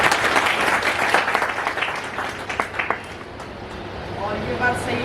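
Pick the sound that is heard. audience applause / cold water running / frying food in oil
audience applause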